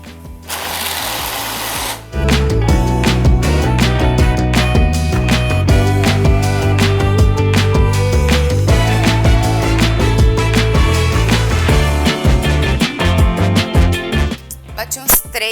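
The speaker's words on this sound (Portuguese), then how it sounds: "eu vou bater bem esse milho com esses ovos e esse óleo primeiro." Corn kernels, eggs and oil being blended into a thick batter for a savory corn cake, a loud steady motor whir running continuously for about thirteen seconds after a brief start, with a short pause near the end.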